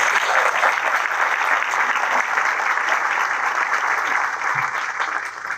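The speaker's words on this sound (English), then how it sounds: "Let's give Angela a round of applause." Sustained applause from a ceremony audience at a military change of command, dense and loud clapping throughout, tapering slightly at the very end.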